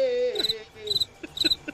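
Cricket chirping sound effect dropped into a comedy reaction segment: a few short, bright chirp bursts in quick succession, fairly close, with a brief tonal sweep at the start and no talk.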